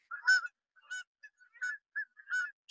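Geese honk in a loose series of about six short, nasal calls, some doubled, with brief silent gaps between them and no talking.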